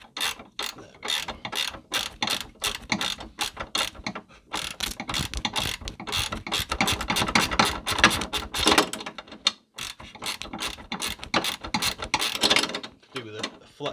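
A 17mm ratcheting spanner working a rear anti-roll bar drop link nut on a Ford C-Max, steady rapid clicking in repeated strokes with brief pauses, close and clear.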